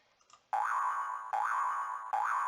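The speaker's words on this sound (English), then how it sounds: "And you could have heard the boing sound played for 3 seconds." A LEGO EV3 sound block plays a boing sound effect three times in a row, each a springy, wobbling electronic tone, clear and alone after a moment of faint clicks.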